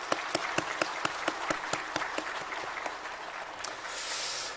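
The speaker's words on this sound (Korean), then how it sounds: "격려의 박수 같이 하시겠습니다" A church congregation gives a short round of encouraging applause during a Sunday worship service, with distinct sharp claps at first blending into a steady, moderately distant patter that swells slightly before ending.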